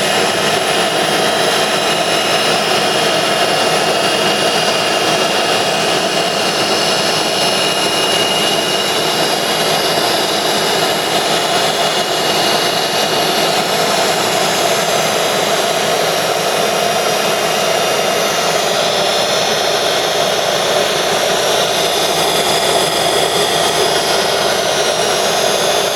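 An ENCO 9-by-49-inch knee mill runs with its spindle in reverse, giving a loud, steady, unbroken mechanical whine and broadband hum that holds constant throughout, with no talk over it.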